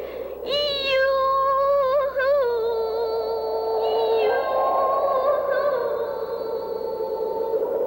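A high, cartoonish voice calls out from a lofty lookout and its echo answers back, a sustained, wavering tone that slides in pitch, loud and close, with no other talk.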